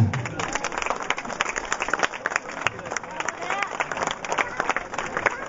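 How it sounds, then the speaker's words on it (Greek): Outdoor crowd applause at an awards moment after a mountain running race, uneven scattered clapping mixed with crowd chatter and voices, moderately close and somewhat lively throughout. "Χειροκρότημα."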